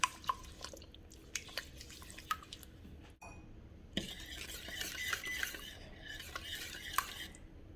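A spoon or whisk stirs wet lemon cake batter of eggs and fresh lemon juice in a bowl, with soft scraping, sloshing and occasional clinks against the bowl, fairly quiet and close.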